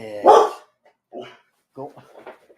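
A pit bull barks indoors, one loud close bark followed by a few shorter, softer barks and yips separated by silence.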